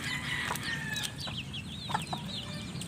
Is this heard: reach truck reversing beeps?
no